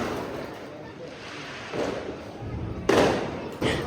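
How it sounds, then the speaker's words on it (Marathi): Firecrackers burst at a Diwali celebration, with a couple of sharp broadband cracks standing out over rumbling background noise and distant pops. "आज खूप दिवसांनी फटाका वाजतात"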